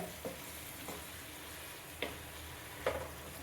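Masala-coated chicken for a Kerala-style ghee roast stirred and frying in a pan over medium-high flame, a soft steady sizzle broken by four sharp spatula scrapes and clicks, fairly quiet and close.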